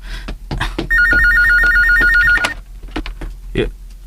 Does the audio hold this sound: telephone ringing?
yes